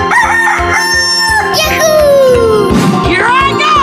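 A cartoon rooster crows in a 3D animal video game, a loud, rising and falling call over busy, bright game music and effects, lasting a few seconds.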